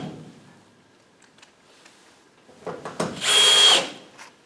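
A power drill driving screws back into a GE GFS55 dryer panel, a short close whirring burst after quiet handling noises.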